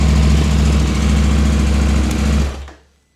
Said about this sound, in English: Basically the idle was rock steady.